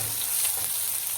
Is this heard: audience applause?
no